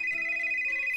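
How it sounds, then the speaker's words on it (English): A phone ringtone in a Roblox game plays as a steady electronic tone that holds a clear, continuous pitch, with a faint second melodic line beneath it and no talking. "Why is my phone ringing again?"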